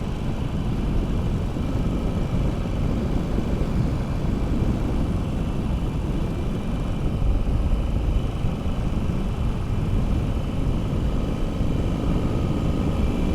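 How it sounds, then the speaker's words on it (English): Steady, loud wind roar buffets a motorcycle rider cruising at about 80, with a dense low rumble and constant broadband rush and no speech. "There is a little bit of wind, but it's still alright."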